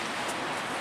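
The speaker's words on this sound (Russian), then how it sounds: "Дождь, слякоть." Rain falling outdoors during a walk in wet, slushy weather, a brief soft steady hiss with no voices.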